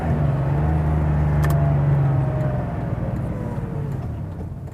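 A 1989 Porsche 911 Carrera 3.2 engine hums low and steady, rising in pitch on a downshift and then easing off, heard from close by as the car rolls along.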